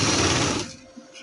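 A sewing machine runs fast, stitching pieces of fabric together in a loud, dense whirring burst that stops abruptly about halfway, leaving near quiet.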